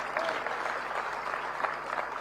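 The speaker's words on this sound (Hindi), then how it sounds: "इनके लिए जोरदार तालियां बजाइए आप।" Audience applause for the Chief Minister at a Panchkula ceremony honoring champions, a brief steady wash of many hands clapping with faint crowd murmur beneath.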